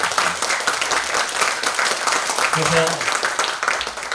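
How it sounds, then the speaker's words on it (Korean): Warm applause from a lecture-concert audience at a university library event fills the room, dense and steady throughout, with a voice speaking briefly over it. "그분에게 우리 뜨거운 박수 한번 보내주시면"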